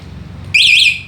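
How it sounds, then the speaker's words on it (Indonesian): An electric bike's alarm switches on with a loud, sustained high electronic siren tone that begins abruptly halfway through, after a low idle hum, then fades slightly at the end. "Aktifkan alarm, tekan gembok tertutup."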